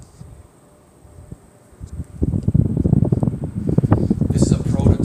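Gusty wind blows outdoors at the LIGO Hanford site, starting as a low murmur and then rising into strong, rumbling buffets against the microphone.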